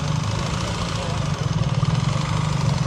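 Motorcycle engine idling close by during slow-speed riding practice in Texas, a steady low rumble with the throttle easing off and then blipping back on, the pulses growing more pronounced in the second half.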